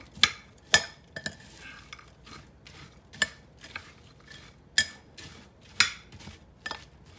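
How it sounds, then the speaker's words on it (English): Georgia cracker salad is tossed and mixed in a dish with a utensil. Sharp scraping clinks and taps on the dish come in an irregular rhythm, close and fairly quiet, with no one talking. "And get it all mixed together. Just toss it."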